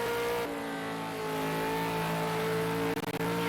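A V8 Supercar engine holds a high, steady droning rev up the hill at Bathurst's Mount Panorama, loud and sustained, with a brief stuttering dip near the end.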